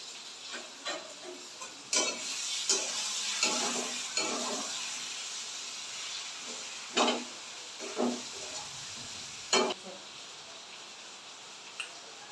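Chopped tomato and a katla fish head sautéing in a pan, a soft steady sizzle broken by sharp spatula scrapes and knocks at irregular intervals, close and moderately loud.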